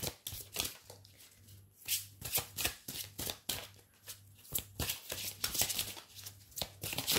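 A Divine Virtue fairy oracle deck is shuffled by hand close up, each shuffle giving a quick papery riffle of flicking cards in a steady run of bursts, with no talking.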